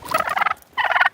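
Farm turkeys gobble in two loud, close, rapid rattling bursts separated by a brief pause.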